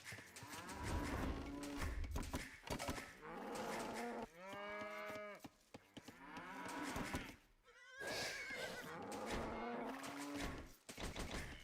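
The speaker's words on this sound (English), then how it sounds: "One of them will grab these cows." Cows in the video game Age of Empires IV give repeated loud, drawn-out moos, several calls in succession that fill the scene with no speech.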